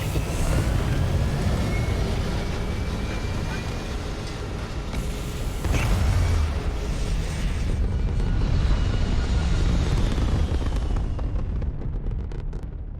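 A spaceship takes off in the video game Starfield with a dense, continuous engine roar and rumble that stays loud throughout and fades slightly at the end, with no talk.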